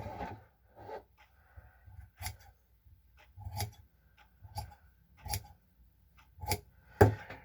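Scissors snip through kilt fabric in a quiet indoor setting, with about eight separate close cuts spaced roughly a second apart and no voices.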